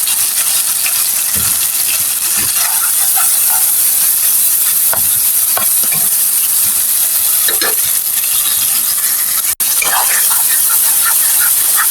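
Spice paste with tomato sauce cooks down in a pan under a loud, steady hiss, with scattered scraping and tapping from a stirring spoon and a single sharp click near the end.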